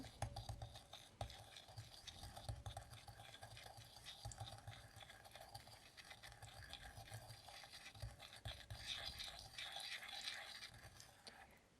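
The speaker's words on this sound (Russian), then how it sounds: "размешиваем дальше" Quiet, close stirring of homemade white chocolate in a bowl, a continuous soft scraping and swishing with light utensil clinks, steady and intimate with no talking.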